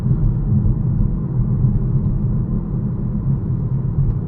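A Toyota Supra's engine drones steadily, rumbling continuously at close range, a low, even hum with no talking over it.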